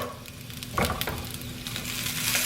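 Vegetables for a South Indian poriyal stir-frying in oil in a pan, with a steady close sizzle and brief stirring scrapes, and no talking.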